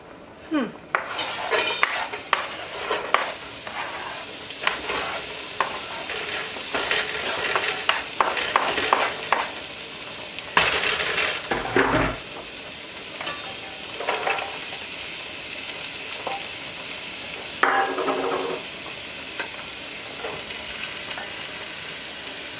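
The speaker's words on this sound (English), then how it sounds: "I need to fry my onion, celery, and wieners until done" Onion, celery and sliced wieners fry in a pan with a steady sizzle, while a metal utensil repeatedly scrapes and clinks against the pan close up, with no talk.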